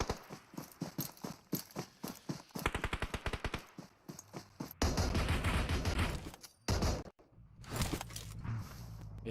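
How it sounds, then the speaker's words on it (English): Gunshots in the battle royale game PUBG Mobile: rapid bursts of automatic fire and single shots in an irregular rhythm, some near and sharp, plus a stretch of dense, sustained firing, with no talk over them. "Everyone's hearing shots."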